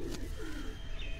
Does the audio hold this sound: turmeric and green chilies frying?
no